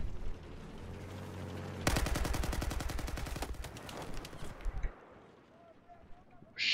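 Rapid bursts of gunfire from Battlefield 4 erupt loud and close, a dense stutter of shots running for a few seconds over game noise, then falling away to quieter ambience.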